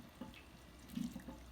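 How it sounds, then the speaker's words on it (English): Hot tap water runs into a sink over raw chicken, a faint, soft splashing stream with a few gurgling pulses near the end. "our chicken has been run under the scalding hot water to break up all those fat cells"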